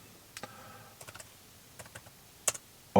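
A computer keyboard being typed on in short, irregular bursts of soft, close clicks, with a louder clack near the end and no talking.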